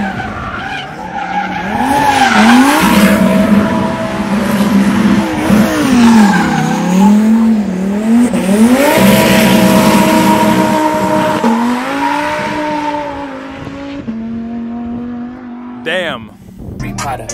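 A car drifts on used tires on a cold day, with loud sustained tire squeal and engine howl that rise and fall over the whole stretch; a short exclamation is heard near the end.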